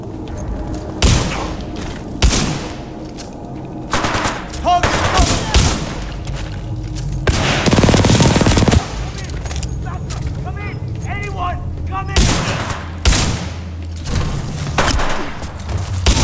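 Bursts of gunfire and booms in the video game Titanfall 2 come in irregular, loud volleys separated by short gaps, with voices and other battle noise in between.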